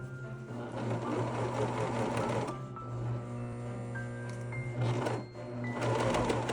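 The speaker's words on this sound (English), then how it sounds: "Some sewing machines will go over a needle, a serger won't." A serger sewing machine runs steadily, stitching fabric for dog boots with a continuous close mechanical whir, pausing briefly mid-run before resuming at full speed.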